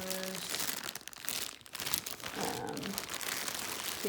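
Crinkling plastic bags that hold small Sylvanian Families animal figures rustle and crunch in a close, irregular run of short handling noises, with a voice speaking at times.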